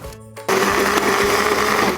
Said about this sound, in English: Remember to cover your blender.